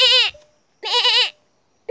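A person imitates a goat with the voice, producing two loud, close, wavering bleats, each about half a second, separated by a short silence.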